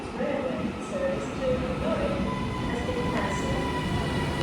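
Interior of a British Rail Class 331 train in motion near Stockport, a steady low rumble and rolling hum with faint whining tones and occasional soft rattles, moderately quiet and unbroken.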